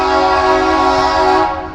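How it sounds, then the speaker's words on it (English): A unit train hotshot blows a loud, sustained multi-tone air horn close by, holding steady before it begins to fade at the end. "waiting for that unit train hotshot to come"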